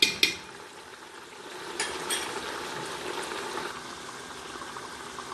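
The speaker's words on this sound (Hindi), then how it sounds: "अब हम इसको थोड़ा सा भूनेंगे ताकि जो मसाले का कच्चापन है वो सही हो जाए।" Beef frying with nihari masala and turmeric in a pot: a steady, close sizzle and bubbling, with a few sharp utensil clinks near the start and light stirring scrapes throughout. No voices.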